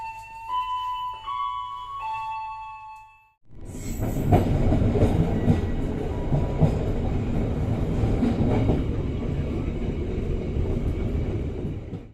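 A Progo passenger train running at night, heard from inside its last carriage: a loud, steady rumble and rattle of wheels and car body starts abruptly after a short quiet stretch with faint tonal hum, then continues dense and unbroken.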